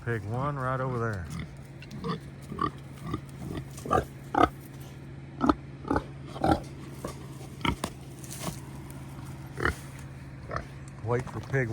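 Pigs on a small farm give short, scattered grunts and snuffles at close range, one every second or so, with a steady low hum underneath and a brief tonal warble at the start.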